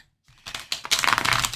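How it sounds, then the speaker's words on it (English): Tarot cards being shuffled by hand, a dense run of crisp riffling and flicking after a brief silence, close and fairly loud, with no talking. "If I can get these cards to shuffle, it'll be even better."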